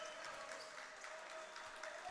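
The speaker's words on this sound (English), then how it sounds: "The defensive crowd getting involved" A crowd at a varsity high school basketball game cheering and clapping, a steady distant wash of applause and voices under faint commentary.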